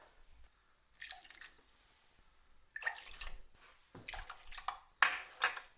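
Water is poured in a few separate short bursts with quiet gaps between, splashing and trickling faintly into a pan.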